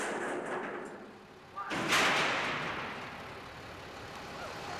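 A human cannonball is fired from a cannon: after a quiet stretch with faint talk, a single sudden loud boom bursts out, then a rushing rumble slowly fades away.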